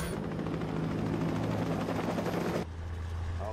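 A helicopter in The Dark Knight film, its rotor whine and chopping drone loud and continuous before cutting abruptly to a quieter low hum near the end.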